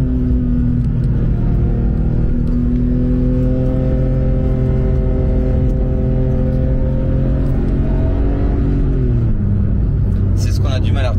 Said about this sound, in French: On s'en lasse pas de ce moteur. Merci Porsche, merci.